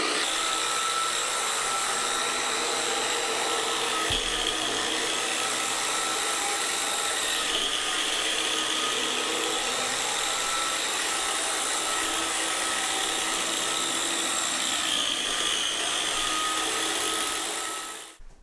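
Electric drywall sander with a rotating disc working across a ceiling, a steady, fairly quiet whirring hum with airy hiss held evenly throughout, then cutting off at the end.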